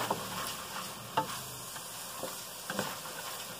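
Three teaspoons of minced garlic sizzle in a pan for old-fashioned goulash, a quiet continuous fry with a few distinct stirring knocks and scrapes close by.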